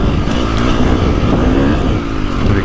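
A 2025 KTM 350XCF dirt bike engine drones steadily and loudly while riding a short woods loop, a continuous close engine roar with no speech.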